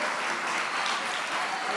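A church congregation applauds in a dense, steady burst of clapping that fills the room evenly from start to finish.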